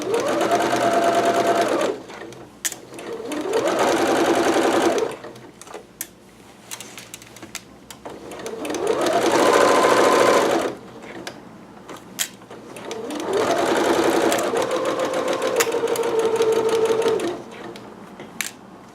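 A home sewing machine stitches a McCall's 6701 dress in three long runs, each a steady mechanical whir broken by short pauses and small clicks, close and clear.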